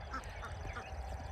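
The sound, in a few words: ducks quacking at a coop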